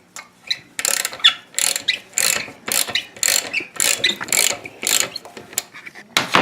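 A ratchet wrench loosens the nut beneath a toilet being removed, making a string of close, crisp clicking bursts in an uneven back-and-forth rhythm.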